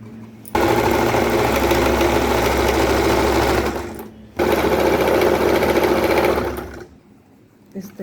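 Sewing machine stitching a second seam line on a petticoat, a loud steady high-speed mechanical whirr in two long runs separated by a short pause, then quiet.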